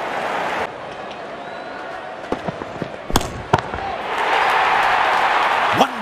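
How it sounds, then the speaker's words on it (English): Sharp cracks of a cricket bat striking the ball for a six during an India versus South Africa match, a couple of crisp impacts amid steady stadium crowd noise that swells louder afterward. "Wonderful sound of the bat, and that's a six."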